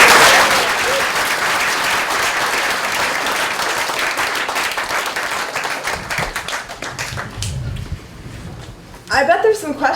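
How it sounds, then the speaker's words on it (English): Audience applause for the panelists at a social justice forum, loud dense clapping filling the room for most of the stretch before thinning out near the end, with some voices over it. "A huge round of applause."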